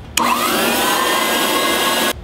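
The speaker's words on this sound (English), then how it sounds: "Which essentially is just a very small, very powerful vacuum." A very small, very powerful vacuum motor on a vacuum forming machine switches on and runs as a loud, steady whine for about two seconds, then cuts off.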